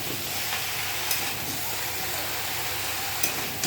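Bottle gourd and egg curry dusted with chili powder is stirred in a hot pan, giving a steady close sizzle with soft scraping and a couple of brief clinks.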